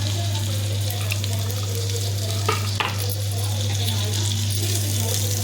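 Cut tomato pieces dropped into hot frying oil, a loud steady sizzle and bubbling with a brief stir or clatter midway, under a constant low hum.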